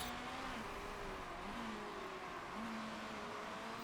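Race cars in the Motorsport Manager video game, some heading into the pits, drone along with steady, faint whining engine tones that rise and fall over a constant bed of track noise.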